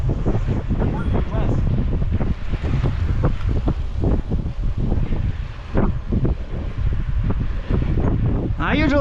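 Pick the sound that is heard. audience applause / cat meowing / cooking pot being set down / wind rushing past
wind rushing past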